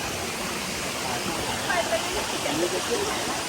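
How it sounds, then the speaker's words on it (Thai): A small stream and waterfall at Tat Yai in Phetchabun, Thailand, give off a steady, close roar of rushing water, with faint voices mixed into the constant hiss. "นี่ก็เป็นธารอันนี้ถือว่าเป็นน้ำตกลูกไปนะ"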